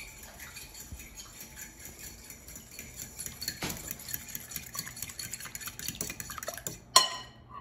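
Lemon cake mix cookie batter stirred in a bowl, with a steady scraping and knocking of the utensil against the bowl, ending in a sharp clink; moderately quiet and close, no speech.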